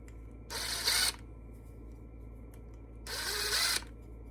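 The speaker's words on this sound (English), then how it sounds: "one way that I like to kind of fix some of those things is just lightly with a countersink bit, just gently kind of take away those rough edges" A countersink bit gently deburring the rough edges of drilled pin holes, heard as two short whirring bursts about two seconds apart in a quiet workshop.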